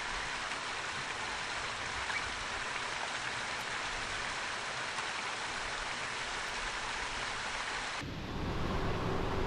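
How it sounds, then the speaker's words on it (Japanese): Clear water in a mountain valley stream babbles in a steady, dense, broadband rush that holds at a constant level for the whole stretch, with only a brief shift in tone near the end. "清らかな谷のせせらぎの音に癒されます。"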